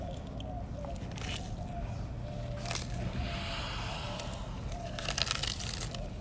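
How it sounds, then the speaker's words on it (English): Galapagos tortoises eat romaine, yams and carrots with their beaks, making soft, scattered crunching and squishing bites over a constant low background hum. "If you listen closely, you can hear them crunching."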